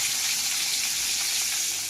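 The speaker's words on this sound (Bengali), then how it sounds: "আর দিয়ে দেবো এখানে কেটে রাখা একটা টমেটোর কুচি।" Chopped tomato hits hot oil in a kadai and gives a loud, dense, continuous sizzling hiss, close up and steady throughout, with no talking.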